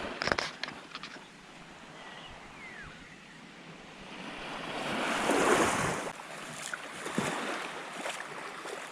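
Sea waves wash and crash along a clear-water shore with seaweed, a steady surf roar swelling into a louder break midway, with wind buffeting the microphone.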